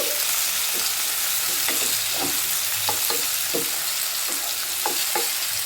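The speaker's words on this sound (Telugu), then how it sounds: "ఇవన్నీ బాగా ఫ్రై అవ్వాలండి. టమాటా అనేది మెత్తగా అయిపోవాలి" Tomatoes and seasonings fry in a pan for rava upma, a loud continuous close sizzle broken by regular scraping stir strokes roughly every half second, with no talking.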